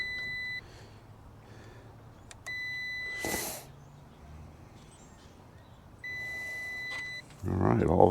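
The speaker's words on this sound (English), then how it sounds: "I have it on ohms, where it gives me an audible tone too. So if it completes the circuit, it beeps." A multimeter set to ohms gives continuity beeps while its probes touch the metal contacts on a vehicle fuse, with three sustained tones of about a second each against quiet garage background and brief clatter.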